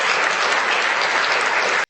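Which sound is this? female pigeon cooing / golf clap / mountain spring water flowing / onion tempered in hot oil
golf clap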